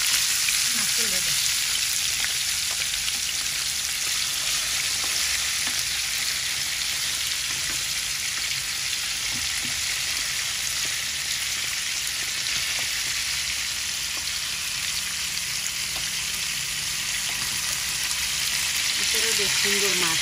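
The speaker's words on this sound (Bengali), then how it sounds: "বেশ সুন্দর মাছ তৈরি হবে মাছটা ভাজা তৈরি" Tilapia fish frying in hot oil, a steady loud sizzle with crackling pops running unbroken throughout, close to the pan and with no talking.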